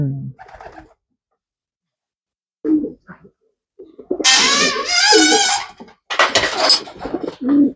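A pigeon coos in short phrases, with soft breathy coos early on and louder, fuller cooing near the end, close by with gaps of silence between.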